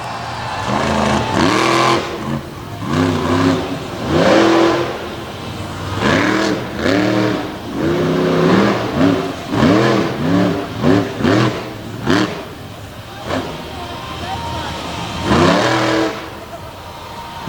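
Midget race car with a big blue Ford engine on a dirt track, revving loud and close in repeated rising bursts, pitch climbing and dropping as it works through the laps.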